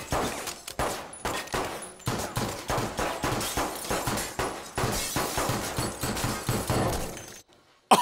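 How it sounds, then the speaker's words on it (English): Gunfight from the film El Camino (2019): a long, loud run of rapid gunshots and shattering impacts, dense and continuous for several seconds before breaking off abruptly near the end. "that was an actual gunfight"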